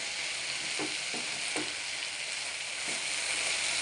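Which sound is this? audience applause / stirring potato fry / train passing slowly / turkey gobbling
stirring potato fry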